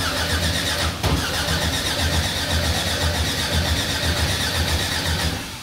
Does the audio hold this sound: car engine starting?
yes